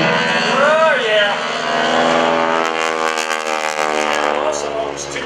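A 1940 Stearman biplane's propeller engine drones steadily at an airshow during a wingwalking act, a loud sustained hum with shifting pitch as the plane turns overhead.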